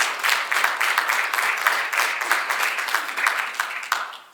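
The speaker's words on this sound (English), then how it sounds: "you can give that a round of applause." An audience at the AddProp launch event in Tembisa applauds steadily for about four seconds, dense clapping that stays fairly loud before tapering off at the end.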